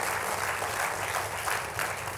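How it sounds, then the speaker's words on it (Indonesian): A church congregation applauds for God in a dense, sustained wash of clapping that fills the room evenly for the whole moment, with no voices standing out. "Tepuk tangannya boleh yang paling meriah buat Tuhan kita"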